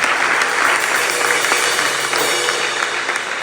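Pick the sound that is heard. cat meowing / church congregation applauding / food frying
church congregation applauding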